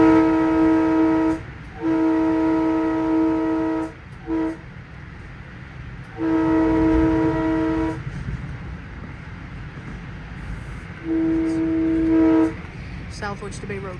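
A locomotive horn blows for a grade crossing at night at Bethpage, with four long, loud tonal blasts separated by short gaps and a low rumble of the train underneath.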